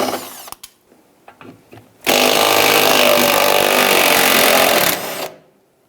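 A power tool loosens 11mm nuts on the front gas tank strap of a 1999-2004 Jeep Grand Cherokee: a few faint clicks, then a loud continuous whirring buzz of about three seconds that cuts off abruptly.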